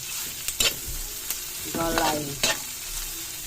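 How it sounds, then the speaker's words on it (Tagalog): Mixed vegetables for Filipino lumpia togue stirred in a hot pan, with a steady oily sizzle beneath several scraping strokes of a utensil, loud and close with no talking. "Mix na natin guys yung ating gulay."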